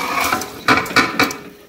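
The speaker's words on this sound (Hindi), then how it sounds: "बस अब हम इस टाइम पे इसमें चावल डाल देंगे।" Uncooked white rice poured into a pot of boiling water for mutton yakhni pulao, with a few clinking, scraping bursts of metal cookware over a steady bubbling background.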